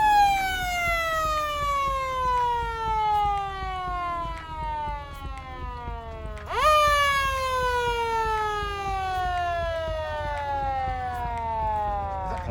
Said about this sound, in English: that's a 6-volt siren